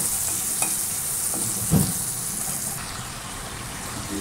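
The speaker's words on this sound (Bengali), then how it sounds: "দিয়ে লোটে মাছটা ঢেলে দেবো।" Lote fish being tipped into a pan of frying aubergine and tomato with nigella seeds, a brief splash and burst of sizzling amid steady frying and stirring.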